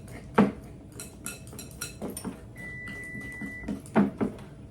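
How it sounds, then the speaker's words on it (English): Butter clumps for date nut bread are worked into a mix in a bowl with a utensil, giving scattered scraping knocks and clinks against the bowl at close range, with a steady tone running underneath partway through. "Trying to get the big clumps of butter mixed in better."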